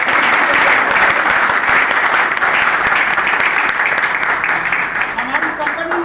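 Loud, steady applause from an audience at an Indian gathering celebrating a company's first vehicle gift, a dense wash of clapping running the full length and easing slightly toward the end, with some voices mixed in.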